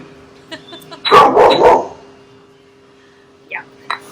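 Neighbor's dogs barking from a distance in a burst of several overlapping barks, followed later by a couple of fainter yips, heard within a quiet home kitchen.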